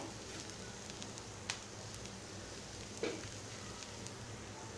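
Bharangi vegetable with fresh grated coconut being sautéed in a pan in Malvani style, giving a steady, even sizzle with faint crackles and a couple of light utensil taps, close and continuous with no talking.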